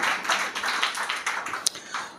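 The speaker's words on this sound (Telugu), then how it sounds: "చప్పట్లు కొడదాం, దేవునికి స్తోత్రం" Congregation at a Telugu Christian worship service clapping in praise, a dense, steady patter of many hands across the whole stretch, fairly close, with no talking over it.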